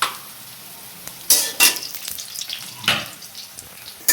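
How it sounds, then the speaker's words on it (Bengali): Onions and chillies sizzle and fry in a pan for a pointed gourd curry, with a steady hiss broken by sharp bursts and clinks as the mix is stirred, close and clear with no talk. "আর এদিকে এই যে পটল তরকারি রান্না করার জন্য পেঁয়াজ মরিচ ভাজা ভাজি হইতেছে।"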